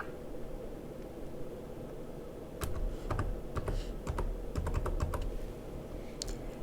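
Keys on a computer keyboard are tapped in a quick irregular burst as an amount is typed in, faint and close over a quiet hiss, with a short pause before a few final taps.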